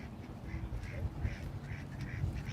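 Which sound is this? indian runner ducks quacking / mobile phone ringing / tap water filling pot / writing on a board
indian runner ducks quacking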